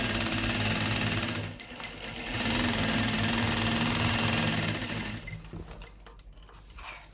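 A sewing machine stitches along the sides of a piece of fabric, running loud and close in two long bursts with a brief slowdown between, then winding down near the end.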